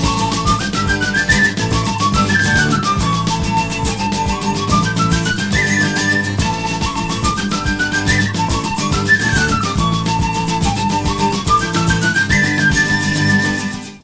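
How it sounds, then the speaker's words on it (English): A penny whistle carries a bright, lilting melody that rises and falls in repeating phrases over a full band backing, loud and continuous throughout. "that iconic part is played on a penny whistle"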